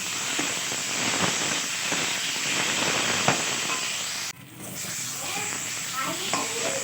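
Spice paste with a pinch of sugar being sautéed for a raw-banana kofta curry, a continuous close sizzle and crackle with stirring scrapes, briefly dipping before resuming.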